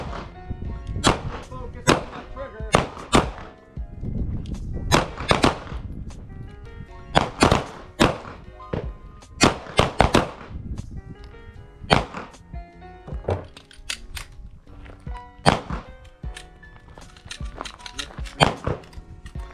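Pistol shots at an outdoor shooting range during a fundamentals class, sharp loud cracks in irregular clusters and singles spread over the stretch, close by, with faint background activity between them.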